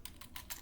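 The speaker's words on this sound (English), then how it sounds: "I'll type it up here." Quick clicks of typing on a computer keyboard, a few close keystroke bursts in rapid, uneven rhythm, fairly quiet with no talk.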